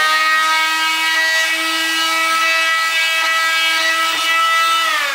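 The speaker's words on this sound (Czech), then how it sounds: "takhle ta delta s tím brusivem a dostanete se krásně do toho rohu" A Fein MultiMaster oscillating tool fitted with a triangular delta sanding pad runs close and loud with a steady high buzz, sanding into a corner with no talk over it.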